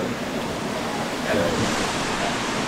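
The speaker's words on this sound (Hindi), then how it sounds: "वहाँ से पानी गिर रहा है इधर से" Sikidiri Waterfall near Ranchi pours down in a steady, close roar of falling water, a dense unbroken rush that holds level throughout with a slight swell midway.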